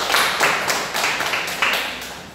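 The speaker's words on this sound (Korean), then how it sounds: "우리 함께만 감사의 박수 하겠습니다." A church congregation claps together in thanks after a prayer, a few distinct rhythmic bursts of hand claps that sound close and fairly loud, with no one speaking over them.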